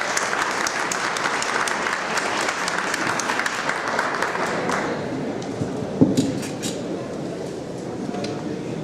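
An audience at an academic conference gives warm, sustained applause to welcome a speaker, with dense close clapping for several seconds that then thins out.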